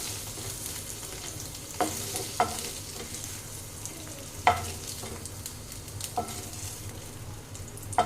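Paneer cubes shallow-frying until brown in a pan, a steady soft sizzle broken by several sharp spatula clicks and scrapes spaced a second or two apart, with no voices.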